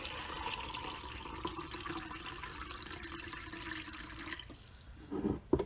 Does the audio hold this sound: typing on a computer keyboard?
no